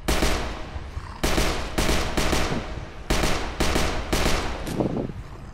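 Gunfire in the VR game HordeZ rattles out in several loud, close, rapid bursts with short gaps between them, with no talking.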